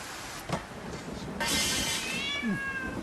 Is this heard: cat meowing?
yes